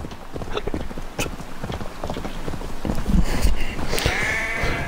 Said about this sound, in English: Move, your stupid sheep.